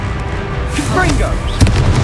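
A Confringo explosive spell blast in Hogwarts Legacy: a short, sharp burst near the end that cuts through ongoing combat noise and voices.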